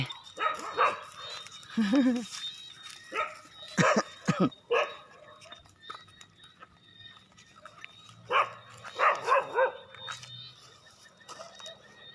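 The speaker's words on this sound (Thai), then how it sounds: "แล้วหมาเห่าอย่างนี้เรียบร้อย" Dog barking in short, spaced bursts, close and fairly loud, with a few whimpering yips between the barks.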